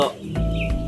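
Broiler chickens on a poultry farm give a short, close cluck with harmonic overtones, loud against a low background hum.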